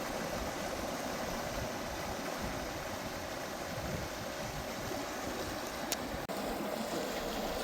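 Creek water runs steadily along a valley trail near Gheerulla Falls, making a continuous broad rushing wash with a faint click and a tap toward the end.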